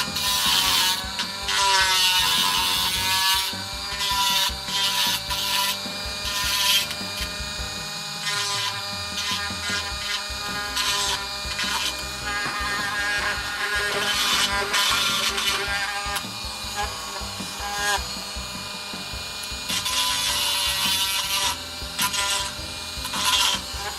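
A carved wooden hammerhead shark is sanded by hand. Scratchy, rhythmic scraping strokes repeat continuously and close up, with brief pauses between passes.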